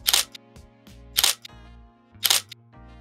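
A camera shutter fires three times at roughly one-second intervals during nature photography. Each crisp, loud, close mechanical click has a short trailing clack.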